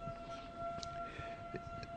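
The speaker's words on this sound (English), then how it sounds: "That's the fire whistle going off." A fire whistle siren drones faintly in the background, a steady continuous tone that persists throughout, distant and quiet, with faint scattered noises around it.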